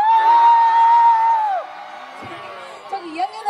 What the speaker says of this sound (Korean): 3학년 소리 질러!